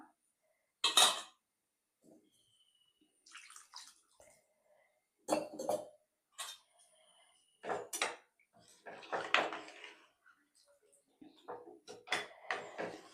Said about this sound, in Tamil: நல்லா ஒன்று சேர கிளறி விட்டுக்கிட்டு குழம்பு கொதிக்கட்டும் 2 நிமிஷம்.